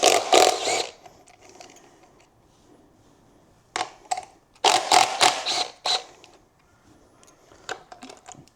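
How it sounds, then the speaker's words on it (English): A ratchet backs out 10mm bolts on the bucket of a Seadoo Spark, with short bursts of rapid clicking near the start and a cluster of close, quick ratcheting strokes midway, separated by quiet pauses. "So you're going to want to undo both 10mm bolts on both sides of the bucket."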